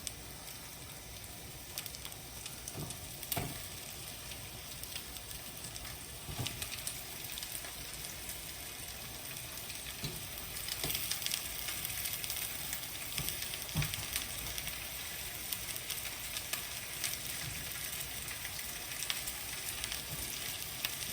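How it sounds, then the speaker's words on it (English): Onions sizzle steadily in a couple tablespoons of avocado oil in a pot, a constant soft crackling hiss with occasional louder pops, heard alone without talk. "So we got our onions in our pot with our about a couple tablespoons of avocado oil."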